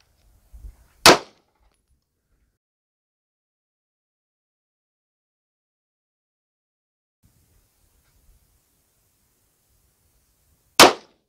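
Two sharp 9mm pistol shots of 115 grain Barnes bullets fired into ballistic gelatin from 7 yards, one near the start and one near the end, loud and isolated with near silence between.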